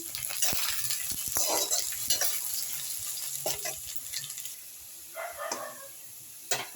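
Fried potatoes with ground onion and green chili paste sizzling in a pan while being stirred, intermittent scraping clicks over a soft frying hiss, a dog barking faintly in the background.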